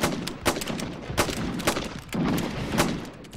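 Rifle gunfire at a British army training camp on the Isle of Wight during Great War target practice: repeated sharp, loud shots crack out at irregular intervals, some close together, with a rumbling echo beneath.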